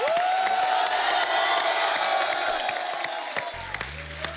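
A studio audience on The Kapil Sharma Show claps and cheers loudly and continuously, a dense wash of applause with a rising tone sweeping over it and a few whoops before it thins toward the end.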